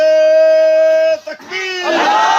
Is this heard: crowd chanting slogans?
yes